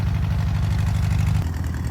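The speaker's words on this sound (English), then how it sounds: "All right, we got the tractor running." A tractor engine runs with a steady low rhythmic chug, close and loud throughout a short stretch with no voices.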